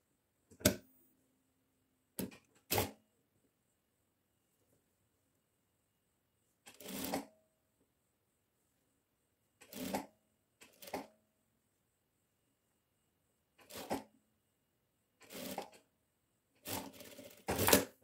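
A domestic sewing machine topstitches bias binding folded over the inside of a chemise dress in short separate bursts, some quick and some a little longer, with silent pauses between them and no talk.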